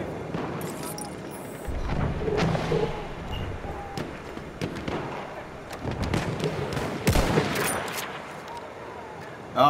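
Battlefield 1 gunfire crackles in scattered bursts and single shots, loud and near at times, with distant booms mixed in and voices talking over the fighting.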